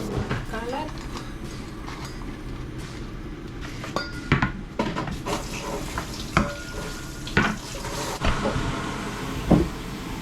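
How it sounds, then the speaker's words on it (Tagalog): Dishes and plates being washed in a home kitchen while shrimp simmers nearby, with scattered clinks and clatters of ceramic and cutlery over a steady bubbling background, and people talking throughout. "maghugas muna tayo ng plato"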